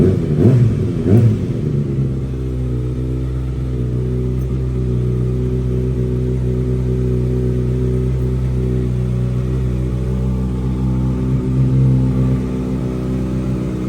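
A 2019 Kawasaki ZX6R 636cc motorcycle engine gives a couple of quick revs, then settles into a loud, steady, close-up idle drone.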